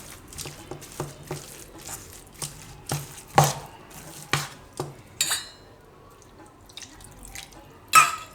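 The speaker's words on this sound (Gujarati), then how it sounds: "તો અત્યારે આપણે એક વાટકી પાણી નાખ્યું" A bowl of water goes into leftover-roti dhokla batter in a Gujarati home kitchen, with a string of soft drips, splashes and utensil taps, moderately close and without speech.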